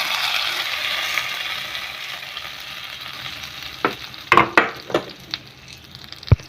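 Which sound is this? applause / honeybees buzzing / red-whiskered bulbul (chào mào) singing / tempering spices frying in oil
tempering spices frying in oil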